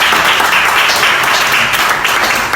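An audience claps and applauds steadily for a sanitary pad presentation, a dense, even wash of hand claps that holds for the whole stretch with no voices on top.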